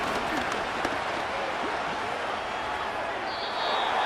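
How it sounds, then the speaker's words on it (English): Stadium crowd roar from a Madden 25 Patriots vs Jets football game, a dense sustained wall of cheering and noise that holds steady throughout and swells slightly near the end. "This crowd, they're trying to force a false start. What noise before 3rd and inches."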